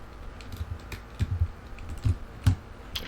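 Keyboard keys clacking in short irregular bursts during a computer game, several quick taps clustered together over a faint background hum, fairly close and moderately quiet.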